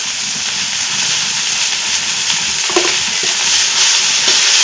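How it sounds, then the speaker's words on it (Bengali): Chopped fresh jute leaves fry with browned onion in a pan, giving a loud, continuous sizzle and hiss with occasional stirring scrapes, close and steady throughout. "পেঁয়াজটা লাল করে ভেজে নিয়েছি এখন আমি কেটে রাখা শাকগুলো দিয়ে দেব"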